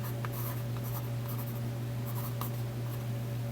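A pencil scribbles marking lines on a front cab mount frame bracket of a 1993 S10 race truck, steady scratchy strokes close up over a constant low shop hum.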